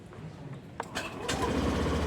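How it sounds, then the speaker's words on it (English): A Suzuki Burgman Street EX scooter engine cranks and catches with a brief starter burst, then settles into a steady, low idle hum nearby. "Let's now turn on the motorcycle to test."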